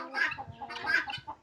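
Several chickens cluck on a farm that also keeps turkeys and guinea fowl, a steady run of close, overlapping clucks and squawks with no one speaking.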